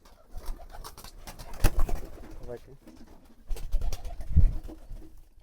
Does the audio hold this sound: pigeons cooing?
yes